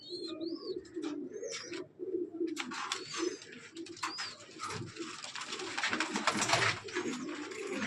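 Giribaz pigeons coo softly in a loft, low rolling calls repeating under brighter chirps and a rising wash of fluttering, rustling activity close by.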